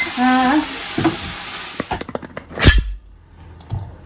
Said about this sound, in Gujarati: તજ લવિંગનો વઘાર